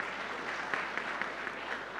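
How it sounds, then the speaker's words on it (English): A faint, distant smattering of applause at a cricket team's meet-and-greet with hospital doctors, with soft, scattered claps over a low room hum for about two seconds. "Applause to him."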